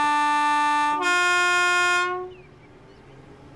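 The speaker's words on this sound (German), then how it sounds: "Wie klingt eigentlich das Horn?" Class 313 electric train sounding its horn: a loud, sustained two-tone blast held for about two seconds with a brief pitch change near the start, then cut off, leaving quiet background rumble.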